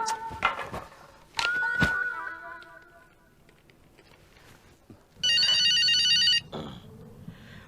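A mobile phone rings with a bright electronic ringtone burst near the end, after earlier thumps, clatter and a door-like slam, indoors in a Hindi sitcom household scene.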